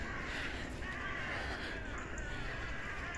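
Crows caw in a cemetery, their calls faint and somewhat distant over a steady hiss of outdoor ambience.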